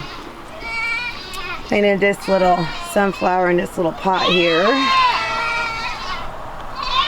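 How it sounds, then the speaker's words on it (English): Several goats bleat loudly in repeated wavering cries at evening feeding time in a backyard, overlapping someone talking nearby. "Sorry about the goats"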